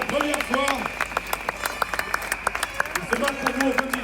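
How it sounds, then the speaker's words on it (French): Scattered applause and clapping from a crowd at a police demonstration in front of the French National Assembly, mixed with crowd noise and voices chanting or calling over a loudspeaker. "CFDT, on les applaudit tous, s'il vous plaît"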